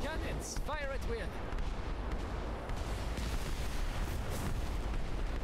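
Cannon fire during an airship battle with pirates in the game Airship: Kingdoms Adrift, a dense, continuous rumble of booms and blasts filling the scene, with a voice briefly heard near the start.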